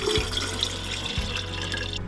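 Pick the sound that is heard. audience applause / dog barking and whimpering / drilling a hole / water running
water running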